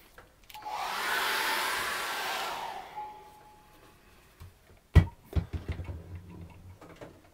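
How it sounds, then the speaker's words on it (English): A hair dryer blows a steady, close roar over an acrylic rock-and-water study for about two and a half seconds, then cuts off, followed by a few sharp knocks and clatters. "I'm just going to dry that off again with a hairdryer."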